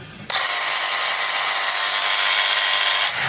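A DeWalt jigsaw starts with a sharp onset and runs at a steady, loud, high-pitched whine for about three seconds before cutting off, close to the listener with no talking.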